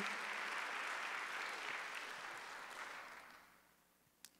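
A church congregation applauds during a Sunday worship service, a broad, steady wash of clapping that slowly thins and fades toward the end, with one sharp clap near the close.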